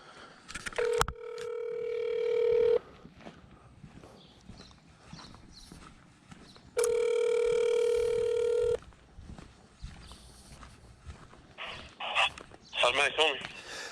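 An electronic phone ringing tone sounds twice in long steady bursts, with clicks and faint background noise between them and a brief voice at the end.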